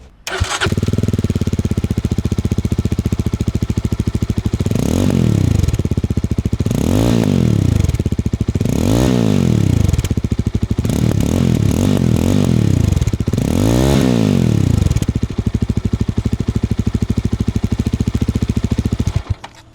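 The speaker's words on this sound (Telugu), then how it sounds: "ఎగ్జాస్ట్ సౌండ్ చూసుకుంటే చాలా థంపింగ్ ఉంటుంది" A 2026 Yezdi Roadster motorcycle with dual exhausts idles with a loud, steady thump, then revs up five times in sharp, rising and falling bursts before settling back to idle, close up and without talk.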